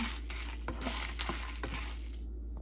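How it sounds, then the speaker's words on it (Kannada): Curry leaves fry in a pan with a steady sizzle, broken by a few soft stirring scrapes at a regular pace, close and alone with no voices. "ಇದಕ್ಕೆ ಒಂದು ಸ್ವಲ್ಪ ಕರ್ಬೇವಿನ ಸೊಪ್ಪು ಸೇರಿಸ್ತಾ ಇದ್ದೀನಿ. ಇದು ಚೆನ್ನಾಗಿ ಸ್ವಲ್ಪ ಫ್ರೈ ಮಾಡ್ಕೊಳ್ಳೋಣ"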